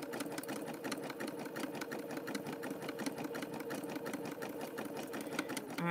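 A sewing machine stitches ribbon onto a rope bowl, giving a fast, even mechanical chatter that runs without a break. The sound is close but fairly quiet, with no speech over it.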